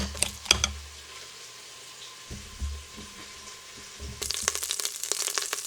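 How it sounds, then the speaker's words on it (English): Pork browning in an Instant Pot, a faint steady sizzle under intermittent low thumps and clinks of stirring, with a brighter crackling burst of frying near the end, close by and no speech. "The pork's almost done browning"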